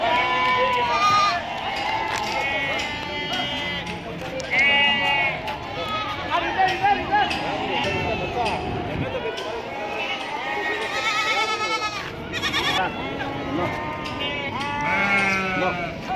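Goats bleat repeatedly at the Deonar goat market, many animals calling over one another near and far while people talk and bargain amid a busy crowd.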